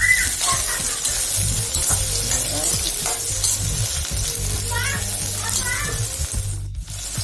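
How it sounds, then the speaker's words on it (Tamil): Shallots and garlic sauté in hot oil with mustard seeds for a spicy shallot kuzhambu, giving a steady loud sizzle and crackle with stirring scrapes throughout. "வெங்காயம் பூண்டு சேர்த்துக்குங்க. சேர்த்து நல்லா வதக்குங்க."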